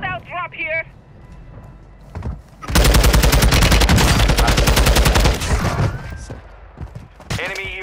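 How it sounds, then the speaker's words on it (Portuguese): Rapid automatic gunfire in Call of Duty: Modern Warfare II, a loud, dense burst of several seconds with scattered shots after, surrounded by brief talk. "Eu escuto tiros, mas não vejo."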